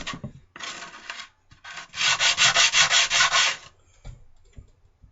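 Knife scales being sanded by hand, short bursts of rubbing, then a run of about ten rhythmic back-and-forth strokes, loud and close, with pauses between.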